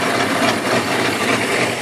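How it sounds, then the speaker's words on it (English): Steam donkey logging engine with a boiler running steadily, a continuous broadband mechanical chuffing and hissing roar at an even, loud level for under two seconds, with no talk. "the engines are running good"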